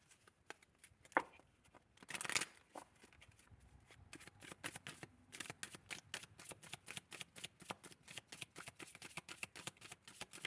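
Tarot cards being shuffled close by at a tarot reading, with a brief riffle burst early on, then a long run of quick, crisp flicks and slaps that keep an even, busy rhythm and grow steadier toward the end.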